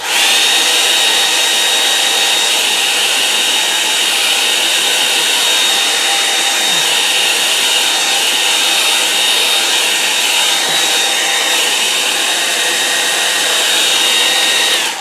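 A hair dryer blowing steadily over a wet watercolour painting, a loud, constant close-up whooshing drone with a high whine that holds unchanged for the whole stretch, no talk.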